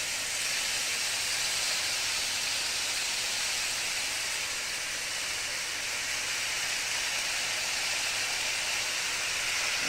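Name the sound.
ground beef sizzling while browning in a pan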